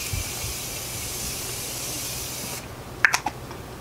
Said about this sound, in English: for setting spray, I'm going to use this Morphe Prep and Set setting spray